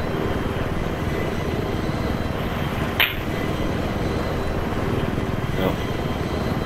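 A helicopter in a video game drones steadily throughout, a continuous rotor and engine wash heard at moderate level, with a brief sharp click near the middle.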